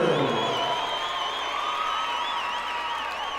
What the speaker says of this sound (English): a big round of applause for both of these Rocktagon warriors